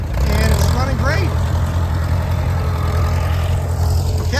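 A 1939 tractor engine runs steadily at a plow day, a continuous low, rumbling drone that stays at an even loudness with faint voices in the background.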